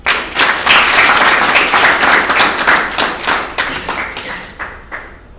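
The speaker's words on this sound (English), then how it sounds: "Can we give them a big clap?" Audience at a university handover ceremony bursts into sustained clapping, many hands at close range, loud and dense for several seconds before gradually thinning out.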